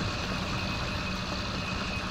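Old tractor engine chugging along slowly in Farming Simulator, a steady low rumbling drone, continuous and fairly loud with no talking.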